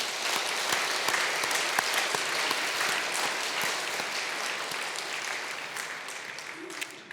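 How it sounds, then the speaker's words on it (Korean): A church congregation claps for retiring members during a service, a sustained, fairly loud round of applause that fills the room evenly and gradually tapers toward the end. "우리 설교하기 전에 오늘 은퇴하시는 분들을 위해서 박수 한번 보냅시다."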